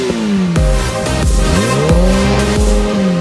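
Kawasaki sport motorcycle engine revved hard in a series of sharp, loud blips, each rising wail dropping quickly before the next, close and alone without talk.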